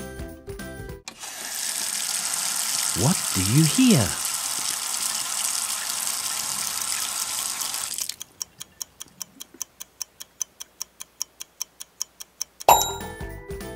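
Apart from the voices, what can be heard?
water running from a faucet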